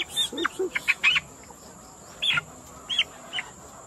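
Young farm chickens chirp and cluck in short, scattered bursts outdoors, clustered in the first second and then recurring sparsely near the microphone against a faint insect hum.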